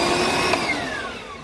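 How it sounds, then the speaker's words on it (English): A cordless, battery-powered vacuum cleaner runs steadily up close, its motor whine drifting slightly lower in pitch over a second and a half, with no voices. "I want to get this battery out of here real quick and just see if the vacuum works."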